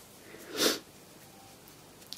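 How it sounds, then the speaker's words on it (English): A single sharp sniff, close and fairly loud, followed by quiet background and a tiny click near the end. "Excuse me, keep sniffing."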